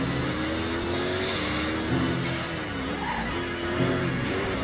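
A race car in the video game Driving Empire holds a sustained, shifting engine whine through a twisting course, with the pitch dipping and rising around the turns.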